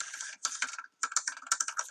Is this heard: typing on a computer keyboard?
yes